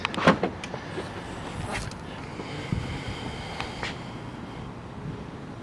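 The rear tailgate of a 2015 Chevy Tahoe PPV opening: a quiet click near the start followed by a steady, faint motor whir and soft rattles, heard close with no talking.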